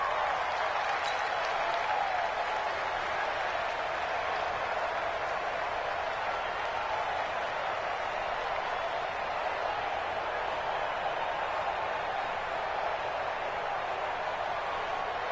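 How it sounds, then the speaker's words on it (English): Home stadium crowd at a Broncos football game roars in a steady, dense wall of cheering and noise that holds loud and unbroken throughout, with no clear pauses. "The crowd's not doing that O-line any favors. Home field advantage is really kicking in"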